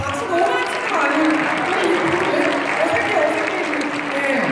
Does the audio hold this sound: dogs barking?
no